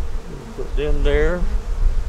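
Honeybees buzzing around an open hive during an inspection, a close, steady drone that swells briefly in pitch and loudness as a bee passes near.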